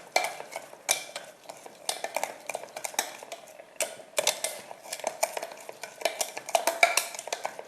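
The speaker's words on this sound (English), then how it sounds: "Keep on stirring it" Chocolate icing is stirred in a pan on the stove, the spoon scraping and clinking against the metal in a steady, repeated rhythm. The scraping is close and fairly quiet, with no talking.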